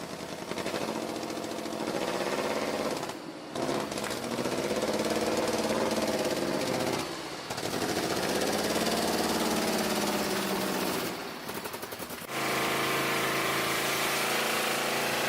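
A Subaru engine idles steadily and loud for most of the span, with a few brief dips where the running sound drops out before resuming, alone with no talk.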